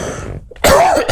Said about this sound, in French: Je tousse, comme ça on pourra le couper.